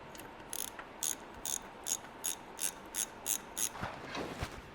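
A ratchet tightening a bolt during an oil change on a 2020 Moto Guzzi V7 III Special motorcycle, about nine soft close clicks in a steady slow rhythm, followed by a faint scrape, with no talking.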